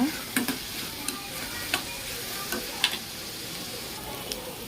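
Onions sauté in a pan for banana flower poriyal, a steady close sizzle broken by repeated spatula scrapes and clicks against the pan, with no talking.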